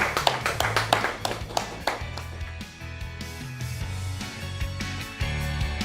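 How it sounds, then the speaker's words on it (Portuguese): A burst of hand clapping rings out at the start of a tribute event, then settles into steady rhythmic claps over background music. "Palmas para o Arnaldo."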